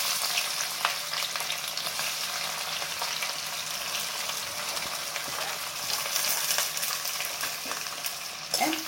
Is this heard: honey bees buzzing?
no